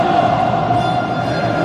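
Wydad basketball fans cheer in an indoor arena during a match against Lixus Larache, giving a steady, dense crowd roar that holds at an even level throughout.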